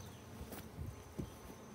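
Agitated honey bees buzzing around an open hive during a beekeeping inspection, a faint continuous swarm hum close by with brief louder passes of individual bees.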